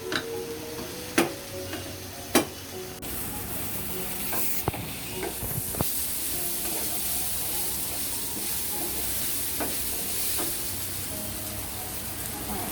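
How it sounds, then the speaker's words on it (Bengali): Chicken pieces fry and are stirred in a pan for kosha, with a steady sizzle and several sharp clacks of a spatula against the pan early on. "তবে এখন মাংসটা কষাতে থাকবো এবং লাল লাল হয়ে আসা পর্যন্ত মাংসটাকে আমি কষাবো।"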